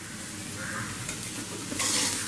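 Mashed potatoes being stirred and fried in a pan over a flame, a steady close sizzle with scraping strokes, growing louder toward the end.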